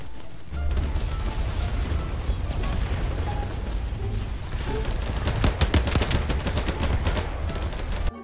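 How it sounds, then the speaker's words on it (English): Gunfire in the online shooter BattleBit Remastered, dense rapid bursts of automatic fire and mechanical clatter running steadily throughout, loud and close with a few heavier volleys near the end. "And the shooting is so nice"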